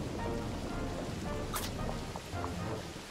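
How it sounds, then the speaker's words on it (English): Rain falls in The Oregon Trail PC game as a steady broadband hiss that stays even throughout, with a few faint chirps and soft sounds mixed into the wash. "Oh no, it's raining."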